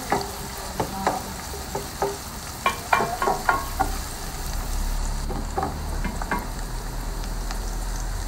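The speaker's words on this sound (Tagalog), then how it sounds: "nagsutay lang ako oil and onions. And then, lagay tayo ng garlic." Garlic sizzles in oil with onions in a pan while cooking Ilokano igado, a soft, even frying hiss punctuated by a series of light taps and scrapes from stirring, fairly quiet and without talk.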